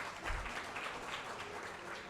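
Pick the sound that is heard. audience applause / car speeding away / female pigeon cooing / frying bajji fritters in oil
audience applause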